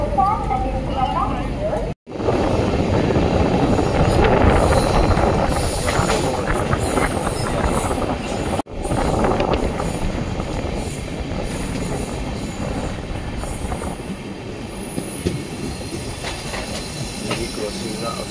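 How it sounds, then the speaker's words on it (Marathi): The Coimbatore LTT Express pulls out of Kurla Terminus, with a loud, continuous rumble of wagons and wheels, occasional squeals and clatter, and indistinct crowd voices underneath. "आपली ट्रेन सुटलेली आहे कुर्ला टर्मिनसवरून।"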